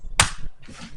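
A single sharp, loud report from a Mauser Turkish M38 rifle cracks out near the start, then fades into a quiet outdoor hush with faint low rumble.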